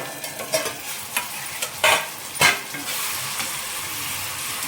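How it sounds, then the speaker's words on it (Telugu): Tomatoes softening in a hot pan for a green chili chutney, a steady sizzle with intermittent scraping stirs and a few louder spoon strokes, close and without talk. "సో ఇలా ఇంకొంచెంసేపు టమాటాలని మగ్గనిద్దామండి."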